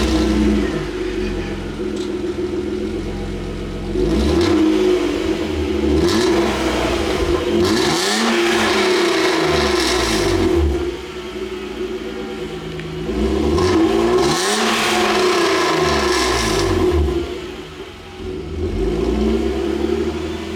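A BMW E39 with no muffler revs close by, the raw exhaust rising and falling through several long, loud swells over a steady idle rumble, with no talk.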